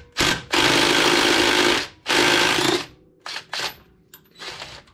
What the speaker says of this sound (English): We'll go ahead and take off this this nut here.